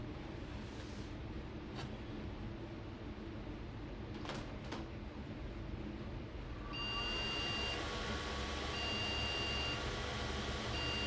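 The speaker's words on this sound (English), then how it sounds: "Shouldn't be beeping like that" A 2008 Golden Tee arcade game beeps during repair, with steady high beep tones starting about two-thirds of the way through and repeating in long on-off pulses over a constant machine hum, with no talking.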